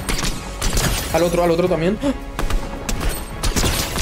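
Rapid bursts of gunfire crackle in a Fortnite match, loud and overlapping in quick fusillades, while a player talks over the shooting.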